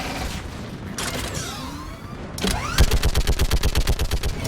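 A mounted gun firing in Mass Effect 3, loud and close: after whooshing sweeps and a heavy boom, a rapid steady stream of about fifteen evenly spaced shots rattles out to the end.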